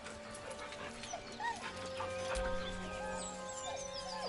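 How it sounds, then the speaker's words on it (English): Dog whimpering nervously in a video game, with several short rising whines and yips over a steady low background hum. "The dog whimpers nervously,"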